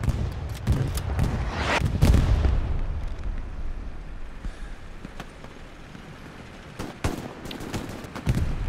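Gunfire in the World War II shooter Hell Let Loose: loud bursts of rifle and machine-gun shots with booming impacts early on, then quieter scattered shots further off.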